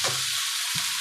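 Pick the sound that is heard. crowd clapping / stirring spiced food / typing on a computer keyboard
stirring spiced food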